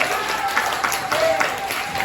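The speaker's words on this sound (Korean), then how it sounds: "박수 먼저 한번 해줄까요?" A room of students applauding together at a lecture, a steady, moderately loud wash of clapping with a faint voice or two mixed in.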